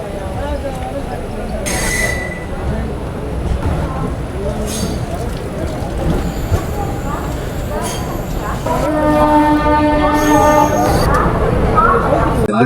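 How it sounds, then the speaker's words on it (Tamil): A local train bound for Chennai Beach rumbles and clatters past nearby at Chengalpattu station, with a rising roar and a brief horn-like tone, while people talk over the noise. "பீச் நோக்கி போற லோக்கல் ட்ரெயின் நினைக்கிறேன்"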